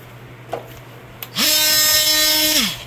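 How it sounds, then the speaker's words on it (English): An oscillating tool cutting through a rear shock absorber rod on a 2003-or-later Crown Victoria or Grand Marquis, a loud, steady buzzing whine of about a second, preceded by a couple of small knocks. "That's where the oscillating tool comes in handy."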